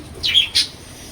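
Pet birds give two short, bright chirps in quick succession close by, with a quiet background and no other sound.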